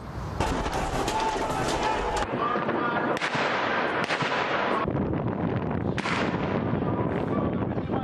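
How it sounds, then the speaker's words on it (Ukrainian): Several sharp cracks and bangs of gunfire ring out amid a loud, chaotic crowd din during protests against Yanukovych's government in Ukraine, echoing in an open street. "Проросійський режим Януковича застосував зброю проти власних громадян"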